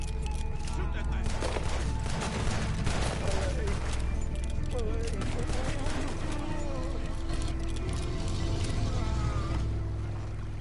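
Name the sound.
gunfire from video game Red Dead Redemption 2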